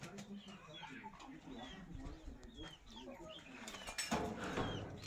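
Hens cluck in short, scattered bursts across a busy breeding farmyard where hens are brooding eggs, with some rustling and background noise; a few calls rise louder toward the end.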